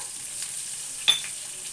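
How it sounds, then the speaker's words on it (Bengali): Pumpkin pieces fry in a pan with black cumin, giving a soft, steady sizzle with a brief stirring scrape partway through. "কুমড়োগুলো একটু ভেজে নেবো ভালো করে।"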